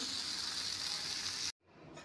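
Onions sizzle steadily in a hot frying pan, a loud close hiss that cuts off abruptly partway through, followed by a faint quiet tail.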